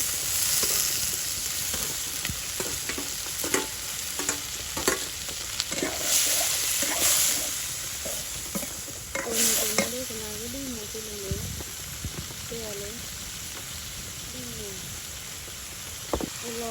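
Chiring river fish fry in oil in a pan while village dal is being cooked, giving a soft sizzle under scraping and stirring clatter, with a voice speaking briefly at one point.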